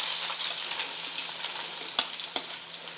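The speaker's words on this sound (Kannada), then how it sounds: "ನಾನು ಒಂದು ಉಳ್ಳಾಗಡ್ಡಿ ಕಟ್ ಮಾಡಿ ಇಟ್ಕೊಂಡಿದ್ರೆ ಅವು ಹಾಕೋತೀನಿ." Onions, mustard seeds and cumin frying in hot oil for a millet kadubu and lentil palya meal, a steady close sizzle with a few sharp pops and stirring scrapes.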